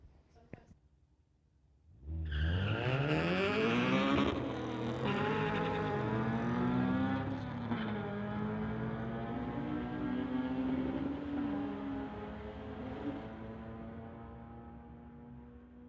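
At a drag strip, Richard's Honda launches against Chris's 2013 Audi; loud engines roar in and climb through rising revs and gear changes for several seconds, then hold a sustained drone that fades away.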